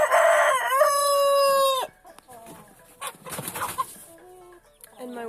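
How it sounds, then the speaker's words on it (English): A Silkie rooster lets out one loud, close crow that ends abruptly, followed by softer clucks and scattered farmyard noises. "And my rooster, Silky."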